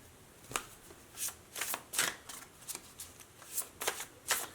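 Tarot cards being shuffled by hand, a series of close, crisp riffles and flutters coming in short bursts roughly every half second, fairly quiet, with no voices.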